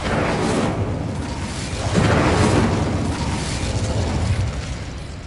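Confringo explosion spell cast in the video game Hogwarts Legacy: a loud, broad blast with a heavy rumble that peaks about two seconds in and keeps roaring steadily, with no speech over it.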